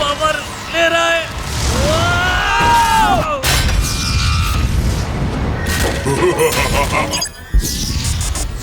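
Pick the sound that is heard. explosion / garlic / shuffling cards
explosion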